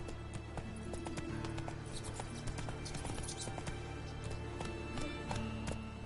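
Roach, the horse in The Witcher 3, trots with steady hoof clip-clops across the whole stretch, layered over constant game ambience and music, the hoofbeats close and continuous.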